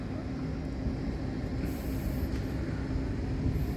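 Argo Wilis passenger train standing at Cicalengka station in drizzle, a steady low rumble of idling rail machinery with faint hiss, continuous and moderately near, no voices.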